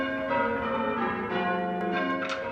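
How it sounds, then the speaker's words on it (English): Church bells ring out with layered, sustained tones and overlapping strikes, resonant and fairly distant, sounding alone without voices. "ring the bells of churches and cathedrals across the country"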